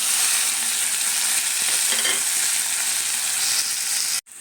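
Fenugreek seeds roasting in a pan with mustard seeds, giving a steady, close sizzle and crackle that runs continuously before cutting off abruptly near the end.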